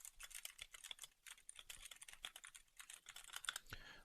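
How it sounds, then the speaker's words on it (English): Keys on a computer keyboard are tapped in a rapid, steady stream, recorded through a headset microphone with noise reduction switched off, giving soft, close clicks at a low level with no voices. "So I'm going to type on the keyboard with it off."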